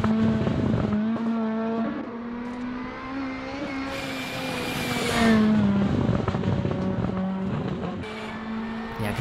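A rally car engine in a rally simulator video game burbles and revs, its pitch rising and dipping through gear changes, loud and continuous with a brief harsher surge in the middle.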